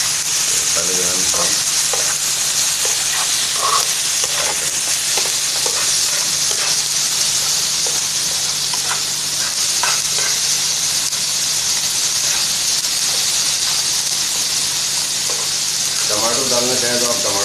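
An egg fries in a pan with potato, onion and green chilies, giving a loud, steady sizzle and hiss throughout, with occasional stirring scrapes and a voice talking in the background.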